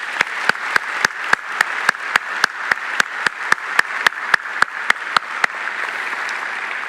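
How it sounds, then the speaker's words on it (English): Applause at a high school graduation ceremony: a steady run of evenly spaced claps, close and crisp, fading slightly toward the end. "Please join me in giving them a round of applause."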